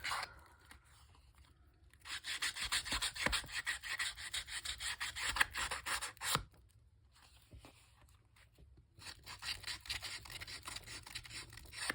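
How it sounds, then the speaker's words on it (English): Sandpaper rubs back and forth to distress the edges of paper in a craft project. Close, raspy scraping strokes come in two separate bursts with a quiet pause between them. "I think I'll distress these edges a little bit too with sandpaper"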